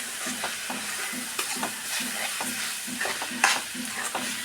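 Spices including garam masala, turmeric, pepper and coriander powder being stirred into a mushroom curry in a pan, with a rhythmic series of spoon scrapes and taps over a gentle frying sizzle.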